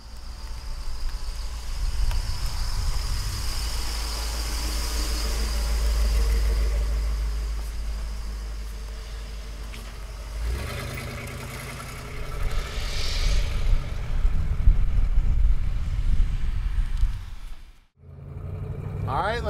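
A 1956 Ford pickup truck's engine runs with a steady low rumble, the revs shifting partway through, heard up close outdoors with some wind noise.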